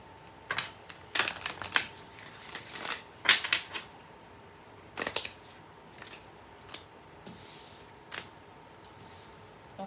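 Affirmation cards being shuffled and handled, with sharp papery flicks and riffles arriving in irregular bursts separated by quieter pauses, close and fairly soft with no talking.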